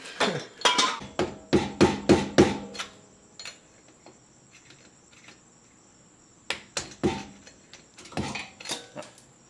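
Sharp, ringing hammer strikes on a BMW E36 e-brake in a quick run of about nine blows, a pause, then another irregular burst of hits, close and loud.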